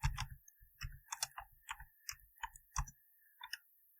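Soft, quick clicks of a computer keyboard as a command is typed, a close, quiet run of irregular key presses with short pauses between bursts.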